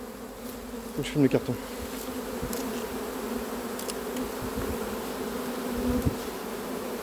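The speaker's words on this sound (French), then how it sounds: "Beaucoup d'abeilles qui battent le rappel." A swarm of honeybees, gathering during the capture of a swarm, buzzes continuously in a dense droning hum, with individual bees whizzing close past and someone speaking briefly over it.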